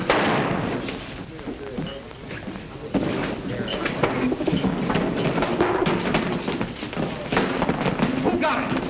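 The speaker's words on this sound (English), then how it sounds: "The shots came from the back door." Gunshots in the 1939 crime thriller Convict's Code: a sharp bang opens the scene and another follows a few seconds later, both rough and booming on an old noisy soundtrack, with people talking throughout.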